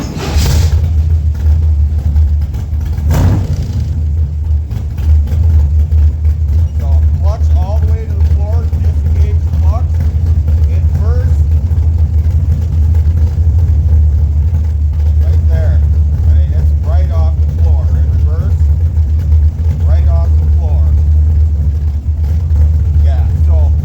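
A car engine fires up and settles into a steady, loud idle, a low rumble running throughout while the clutch pedal is worked; faint talking sits beneath the engine noise.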